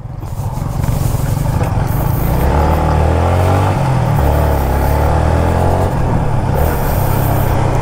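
A Yamaha Sniper 155 motorcycle engine runs loud and steady during a short ride, with a continuous low drone that rises and shifts in pitch as it revs, along with wind noise and no talking.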